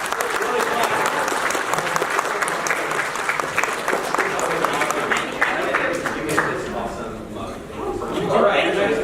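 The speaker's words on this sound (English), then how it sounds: "let's hear a round of applause" Dense applause from a convention panel crowd fills the whole stretch, steady and fairly loud, with some voices mixed in underneath.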